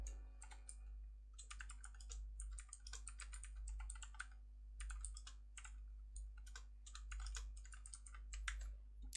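Rapid computer keyboard typing while HTML code is entered, bursts of close, crisp key clicks in uneven runs with brief pauses, over a low steady hum.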